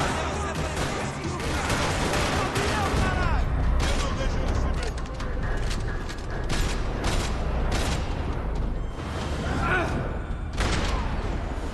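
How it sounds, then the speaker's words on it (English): Gunfire rattles through a parking lot in the video game Max Payne 3, with bursts of shots, thuds and mechanical clatter mixed with dramatic music and voices across a busy action scene. "Another parking lot rattling with gunfire"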